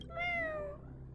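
A cat in the Honkai: Star Rail video game gives a single drawn-out meow, clear and close, that falls slightly in pitch and then fades out.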